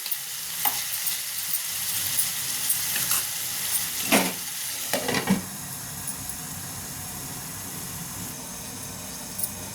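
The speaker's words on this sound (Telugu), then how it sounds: "చికెన్ వేగిందో లేదో చూద్దాము" Salted chicken pieces fry in a pan with a steady sizzle and crackle, broken by a few sharp scraping stirs near the middle.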